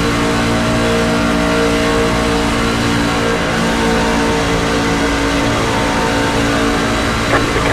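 NASCAR Craftsman Truck Series race trucks at Talladega in the iRacing simulator drone with a loud, steady engine roar that stays constant throughout, with no talking.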